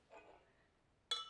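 Glasses touched together in a toast give one sharp, bright clink near the end, following a faint murmur in an otherwise quiet room.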